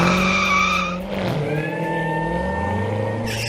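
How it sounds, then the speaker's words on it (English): A Corvette skids past, its engine tone sweeping and bending while tyres squeal, loud and close, then settles into a steady drone. "Where the heck did this Corvette come from?"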